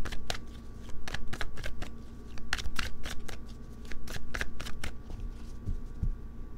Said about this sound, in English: Let's cut the deck and see what we have for you